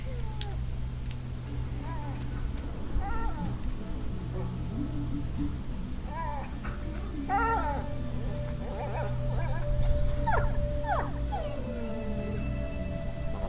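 A dog whimpers and yips in A Plague Tale, the thin whines rising and falling in scattered bursts over a steady low ambient rumble, moderately close and not loud.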